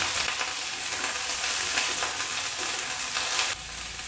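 Cauliflower florets with trimmed stems fry in hot oil with a dense, steady hiss of sizzling that holds close and loud for several seconds, then shifts to a slightly different texture near the end.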